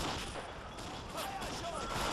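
Gunfire from the World War strategy game Men of War: dense battlefield shooting and artillery-like bursts, a constant noisy barrage at moderate level with game voices calling out over it.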